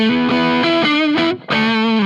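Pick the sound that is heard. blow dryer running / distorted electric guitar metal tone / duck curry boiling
distorted electric guitar metal tone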